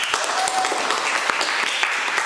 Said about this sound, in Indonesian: tepuk tangan untuk Salsa